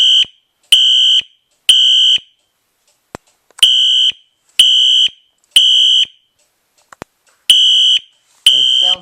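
A Wheelock HSR Exceeder fire alarm horn strobe, set to 15 candela on code 3 low, sounds loud, close, shrill horn blasts in evenly spaced bursts with short silent gaps between them.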